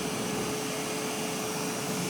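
A Samsung POWERBot R7070 robot vacuum runs with a steady, loud, broadband whooshing roar and a faint constant whine, unbroken throughout with no talk.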